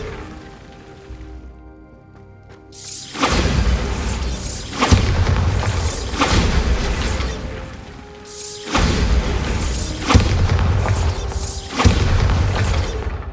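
Bombarda blasting spells cast in the Hogwarts Legacy video game: after a quieter lead-in, heavy booming explosions burst out in two long loud waves, with crashing debris and rumble filling each one.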